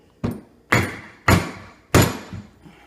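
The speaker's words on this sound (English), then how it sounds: "you can use a rubber mallet" Four sharp, evenly spaced thuds of a rubber mallet tapping a bushing into place, each a close, solid knock with a short decay.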